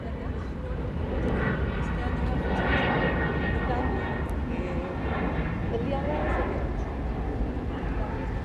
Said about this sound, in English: It's an EasyJet A320 Neo.